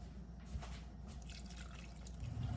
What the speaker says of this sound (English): And I'm going to add some milk